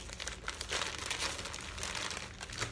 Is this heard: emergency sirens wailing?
no